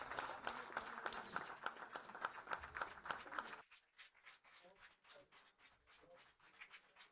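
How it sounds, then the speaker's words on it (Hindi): An audience at an Eid special program claps in sharp, distinct slaps for about three and a half seconds, then the clapping drops away to a quiet, thin room with scattered faint sounds. "तालियां हो जाए, भरपूर तालियां"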